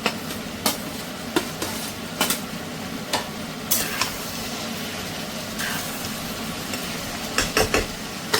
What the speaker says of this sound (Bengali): পেঁয়াজটা হালকা একটু ফ্রাই করে আমি ক্যাপসিকামটা মিশিয়ে দেব